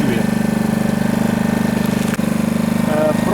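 A GENERGY IBIZA 1.0 kW inverter generator runs steadily at close range, its small engine giving a continuous low, pulsing drone with an even rhythm throughout, a brief dip near the middle.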